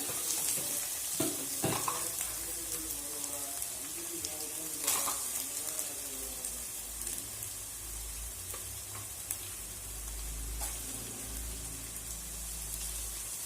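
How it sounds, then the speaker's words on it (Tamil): Onions sizzle and fry in ginger garlic paste in a pan, a steady hiss running throughout with occasional stirring clatter and scraping, close and continuous with no talking. "இப்போ வெங்காயம் நல்லா வதங்கட்டும்"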